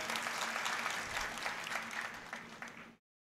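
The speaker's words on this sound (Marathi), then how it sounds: "टाळ्या जरा जोरात वाजवा." Steady applause from a crowd at a Nationalist Congress Party workers' rally in Maharashtra, dense clapping held for about three seconds before stopping abruptly.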